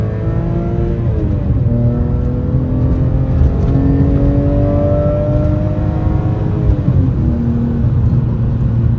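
A BMW E46 M3 engine drones loudly from inside the car while driving, its pitch rising and shifting through gears in a continuous throaty hum with no talking.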